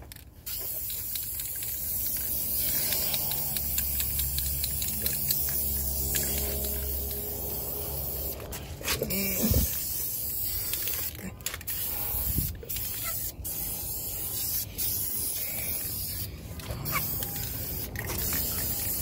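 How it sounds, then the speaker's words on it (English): Cleaner is sprayed onto the edge of a rusty-looking car wheel rim in a series of short, sharp hissing bursts, close by, with some speech in between. "Spray this edge."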